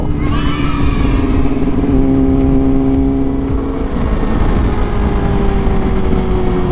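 A big bike rides along the coast road at Mae Ramphueng beach in Rayong. Its engine hums loudly and steadily and rises and falls through gear changes, with heavy wind noise throughout.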